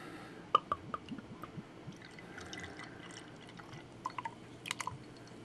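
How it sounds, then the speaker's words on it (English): Ballast Point beer poured from a bottle into a glass, soft close liquid glugging and fizzy drips with a few sharp clinks, quiet and intermittent without talk. "Another successful pour."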